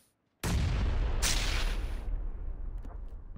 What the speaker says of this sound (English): Be careful. Grenades upstairs.